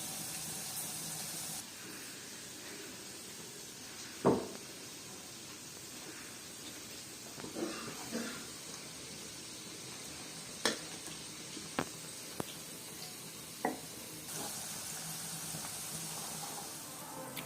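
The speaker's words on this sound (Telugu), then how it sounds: "ఇక్కడ ఆయిల్ హీట్ అయిందిగా, దీంట్లో ఒక్కొక్కటి ఇలా వదులుకోవాలి. ఇవన్నీ కూడా ఇలా ఫ్రై చేసుకోవాలి." Okra pieces dropped one by one into hot oil sizzle softly and steadily, with a few sharp clicks and taps of utensils against the pan, quiet and close with no talking.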